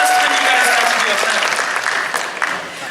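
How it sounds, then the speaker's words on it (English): An audience at a TV series panel event claps steadily, a dense wash of applause that gradually thins out near the end, with some voices mixed in. "let's first give them a round of applause"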